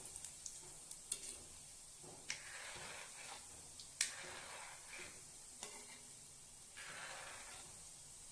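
Faint, soft sizzling of sweet seedai dough balls frying in oil, broken by scattered light clicks and taps from the pan.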